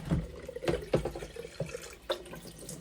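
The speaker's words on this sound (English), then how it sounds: "So now let's rinse this one" A descaled item is rinsed under a running tap, with water splashing and dripping in short, uneven bursts close to the microphone.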